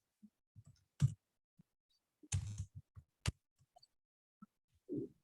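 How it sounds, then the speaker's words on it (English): Sparse computer keyboard typing, with scattered quiet key clicks and a few louder clustered presses spread irregularly over several seconds in a quiet room, with no voices. "I could actually start typing in"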